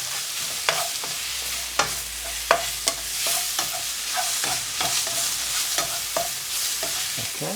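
Mushrooms tossed in a pan of hot oil for chop suey, stirred in a steady rhythm of scraping clatters over a continuous close sizzle, with no talking.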